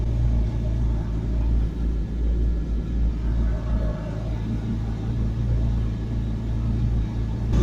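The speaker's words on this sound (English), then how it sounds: "So we're getting the engine warmed up now" McLaren 12C engine idling while warming up, a steady low rumble that stays even and fairly quiet throughout, with no revving and no talk over it.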